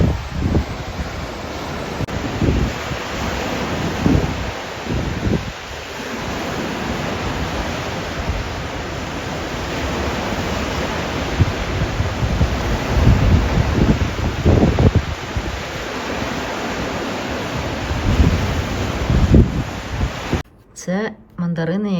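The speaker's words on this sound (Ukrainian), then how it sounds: "Такий вітер дуже сильний. Подивіться, які хвилі." Strong wind buffets the microphone in loud gusts over the rolling rush of sea waves on the Greek coast, with a sudden cutoff near the end.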